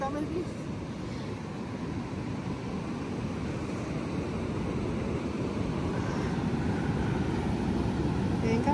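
Sea waves wash onto the shore at a beach resort in Salalah, a broad, steady surf rumble mixed with wind buffeting the microphone, slowly swelling louder toward the end.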